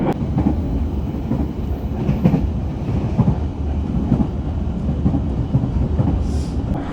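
The Sancaka Utara passenger train rolls along the rails with a steady, loud rumble from inside the carriage. Rhythmic wheel clatter and creaks run through it the whole time.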